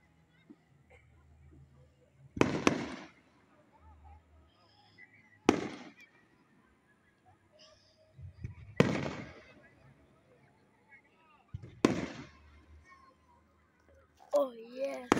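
Fireworks bursting outdoors, four or five sharp loud bangs spaced a few seconds apart with crackling tails and a whistling shell at the end, while people talk softly between blasts.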